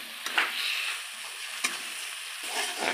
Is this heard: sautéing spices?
yes